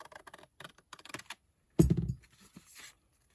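Scissors cut through paper while making a tag booklet: a few faint snips and taps, then one louder close crunch of a blade closing through the sheet, followed by softer rustling.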